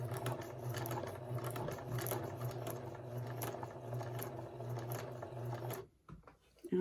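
A sewing machine stitches a button onto fabric with a rapid, steady mechanical whirr and needle clatter held close for several seconds, then stopping abruptly near the end.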